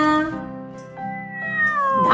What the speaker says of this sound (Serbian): Jedna pitoma, draga maca.